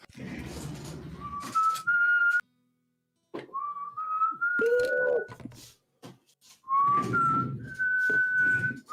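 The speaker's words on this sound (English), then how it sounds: "Can you maybe not whistle? My ears do not like whistling." A person whistles short, rising melodic phrases in several bursts with pauses between them. Muffled talking and room noise fill the gaps.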